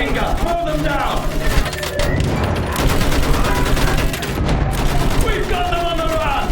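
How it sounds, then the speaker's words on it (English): Rapid automatic machine gun fire in the World War I shooter Battlefield 1, a loud sustained rattle of repeated shots with booming blasts, heard under shouted commands from soldiers. "Use that machine gun! Mow them down!"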